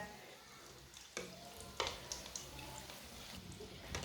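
Kachori frying gently on a low flame in a pan, a faint steady sizzle with a few soft stirring scrapes and clicks over a few seconds, with no talking.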